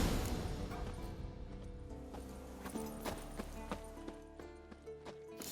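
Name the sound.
horse hooves clip-clopping in Witcher 3 video game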